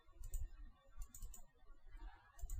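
Clicky keystrokes on a computer keyboard, tapped in quick uneven bursts close to the mic with short pauses between, no voices.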